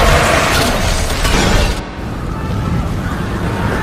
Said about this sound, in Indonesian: api masuk ke selang dan ledakan pun terjadi